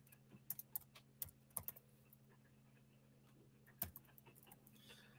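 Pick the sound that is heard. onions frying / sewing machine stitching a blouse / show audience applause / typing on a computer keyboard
typing on a computer keyboard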